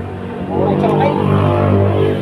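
An Isuzu 4BE1 engine, just fitted with a new gearbox oil seal, starts after a brief pause and settles into a loud, steady, low rumbling idle up close.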